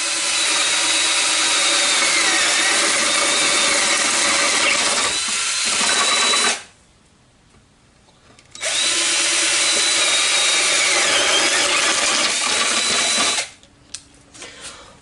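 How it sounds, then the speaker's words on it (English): A power drill bores a hole with a 1/2-inch bit, a loud continuous grinding whine running steadily, dropping out briefly around the middle, then resuming before stopping near the end. "drill a hole."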